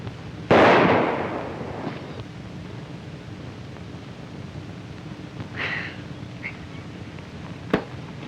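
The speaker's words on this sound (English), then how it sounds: "Say, that's pretty good shooting." A pistol shot in a western movie, one loud close crack with a decaying tail early on, followed by quieter scattered sounds and a sharp click near the end.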